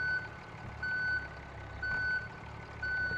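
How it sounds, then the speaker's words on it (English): A vehicle's reversing alarm in the driving game BeamNG.drive sounds loud and steady: evenly spaced electronic beeps about once a second, with low engine rumble underneath and no talking. "All that beeping sounds. It's so loud in the ears."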